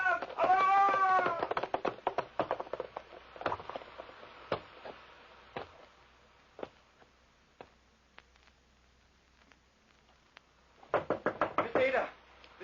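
Knocking on a door as a radio drama sound effect, a series of sharp raps spread across the scene between stretches of talk and a meowing-like sound, close and clear.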